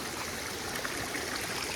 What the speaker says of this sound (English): look at how much water's moving through there